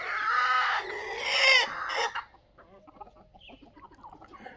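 Free-range desi chickens cluck close by on a poultry farm, a dense burst of overlapping clucks in the first two seconds giving way to quieter, scattered calls.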